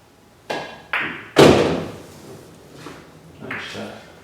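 Billiard balls and pool cue strikes in a practice session: three sharp knocks in quick succession, the third loudest, followed by softer rolling clacks and a final cluster of hits.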